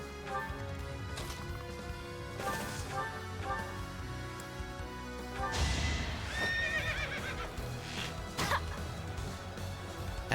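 Horse in the video game Fire Emblem: Three Houses whinnying several times with snorts, mixed with clip-clopping hooves and game effects, moderately loud over a musical background.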